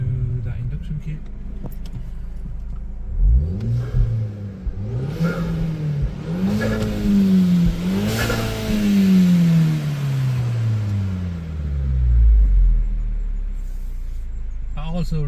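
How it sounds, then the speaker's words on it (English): A car engine fitted with an induction kit revs repeatedly, rising and falling in several loud surges close by, ending in one long rev that drops away. "So let's listen to that induction kit."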